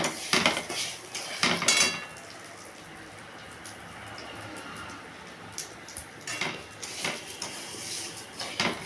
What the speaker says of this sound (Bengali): মুগ ডালটা দিয়ে নাড়াচাড়া করবে